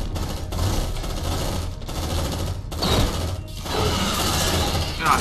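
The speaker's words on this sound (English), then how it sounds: "Deploying sentry gun." Automated sentry gun firing in the Aliens: Dark Descent video game, a loud sustained rapid-fire rattle of gunfire with brief breaks and mechanical clatter in the mix.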